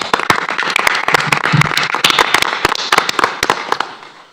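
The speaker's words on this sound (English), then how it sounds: "Let's give them one more round of applause." Loud, dense applause from a crowd at a school board meeting, many hands clapping rapidly and irregularly, tapering off slightly at the end.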